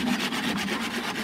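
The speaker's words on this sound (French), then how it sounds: "la scie, elle coupe que dans un sens" Rough, rasping strokes of a hand saw cutting through wood, close up, the scraping rising and falling in a quick back-and-forth rhythm.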